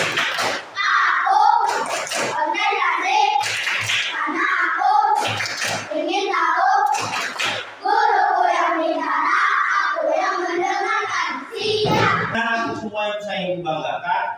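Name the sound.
class doing the tepuk fokus rhythmic clapping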